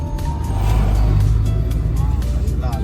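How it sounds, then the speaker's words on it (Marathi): A CNG vehicle passes on a road near a dangerous turn in Konkan, its engine rumbling loud and close over a steady road roar, heard from inside another moving vehicle. "बाबू सीएनजी ची गाडी"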